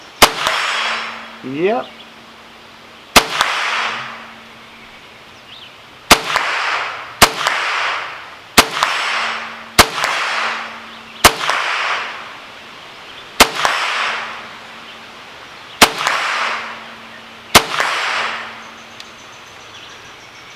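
Rifle shots ringing off steel torso targets downrange, about nine sharp cracks spaced a second or two apart, each followed by a short decaying clang, with a brief spoken word early on.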